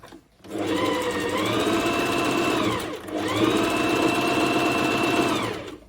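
A Bernette B05 Academy sewing machine stitching thick winter fleece fabric, two steady runs of rapid humming and needle chatter, close and loud, separated by a brief slowdown and restart.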